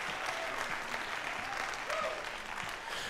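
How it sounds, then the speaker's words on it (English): A high school jazz concert audience gives a tenth-grade student musician a steady round of applause, fairly quiet and diffuse across the hall, with faint tonal traces of instruments or voices underneath. "Let's give him another round of applause for all of his work"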